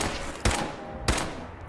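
Gunfire in the Fallout 4 first-person shooter game: three sharp, loud shots spaced roughly half a second apart, each cracking out and then trailing off into a dim, rumbling background.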